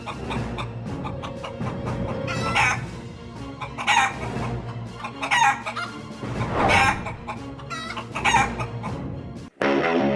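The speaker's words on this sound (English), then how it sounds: "It's a video that wants us to believe it shows a chicken hatching an egg." A chicken clucks and crows repeatedly in a hatching scene, with loud, bursty calls over a busy background and a sudden cut near the end.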